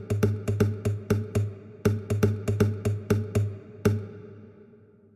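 Percussive guitar hits from the Nylis sample library, body taps and string noises, played as a rhythmic pattern: about a dozen sharp, close, resonant knocks in an uneven groove, then a pause with one final hit.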